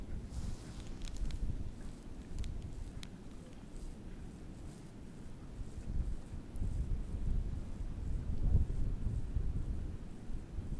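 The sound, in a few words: strong wind on microphone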